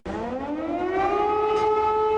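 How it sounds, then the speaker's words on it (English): A loud, sustained air raid siren in eastern Ukraine wails steadily, its rising tone leveling into a continuous howl with no voices. "Air raid sirens filled the air in parts of eastern Ukraine Friday"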